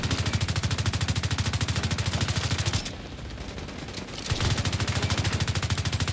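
Rapid automatic gunfire in the shooter game The Division 2, a fast, even stream of shots that pauses for about a second and a half before resuming at the same relentless rhythm.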